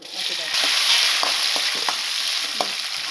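Halved green chillies sizzling and frying in hot oil in a pan, with faint stirring clicks, while cooking sweet hogplum sukka. A steady close hiss runs throughout, with no talk.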